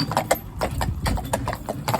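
A Gelderlander horse in new boots walks, its hooves striking in a steady, close clip-clop rhythm of distinct knocks.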